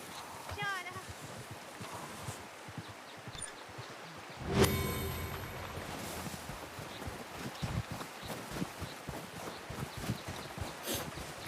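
Horse hooves clip-clop steadily under outdoor French conversation, with a sharper knock partway through.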